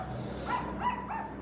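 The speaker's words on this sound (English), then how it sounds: "I love the neighbor dogs." Neighbor dogs bark a few times in a quick series of three yips and woofs, moderately distant and fairly faint over a steady outdoor background hum.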